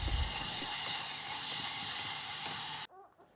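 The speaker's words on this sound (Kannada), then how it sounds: "ಅದಕ್ಕೆ ನಾನು ಈರುಳ್ಳಿ ಜೊತೆನೇ ಹಾಕ್ಕೊಂಡು ಹುರ್ಕೊತಾ ಇದ್ದೀನಿ" Onion and fenugreek leaves fry in a pan, a loud, dense sizzling hiss that runs steadily and then cuts off abruptly, leaving faint quiet clinks.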